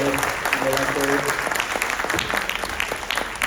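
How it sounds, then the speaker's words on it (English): Audience applause for artists and directors after a music lecture-demonstration builds as close, sustained clapping from a crowd. A voice speaks briefly over the start, and the clapping thins into scattered claps toward the end. "Once again, a round of applause for all of the artists and directors."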